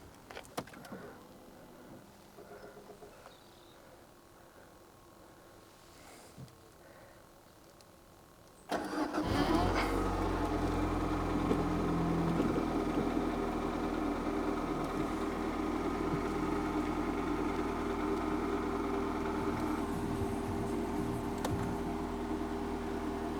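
A used car bought at auction, with about 56,000 miles on it, cranks and starts after a quiet stretch, then settles into a steady, close idle.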